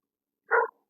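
A dog in a neighbouring yard gives one short, faint bark, heard alone in the quiet.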